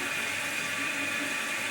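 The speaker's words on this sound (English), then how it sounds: "The water's all the way up to the top and it's flowing over that little tube and draining, and it won't stop" Steady broadband hiss and rush of toilet tank water running nonstop, overflowing the fill tube and draining because of a faulty fill valve; continuous, even and fairly close, with no talk.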